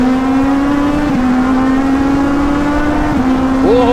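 Legend race cars racing on the Charlotte Roval banking, a loud sustained engine drone held near full throttle with a brief dip and a rising rev at the end, heard from close by with no gaps.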